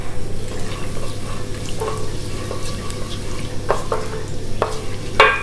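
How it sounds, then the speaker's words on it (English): Cumin seeds, a heaped teaspoon, sizzle in hot oil with reddening fenugreek seeds for a Mangalorean chicken curry, a steady close frying hiss broken by stirring clinks and a sharp scrape near the end. "now we add the cumin, 1 heap teaspoon"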